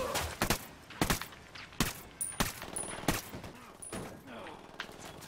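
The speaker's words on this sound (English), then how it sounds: "I'm getting shot by the sniper!" Gunfire in Tom Clancy's Ghost Recon Wildlands, a series of sharp, loud shots at roughly regular intervals of about a second, with faint background game sounds between them.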